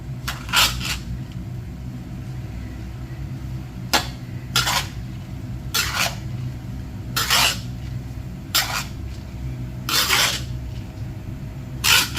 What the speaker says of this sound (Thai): ใส่ผงปรุงรสแล้วก็ผัดต่อเลยค่ะ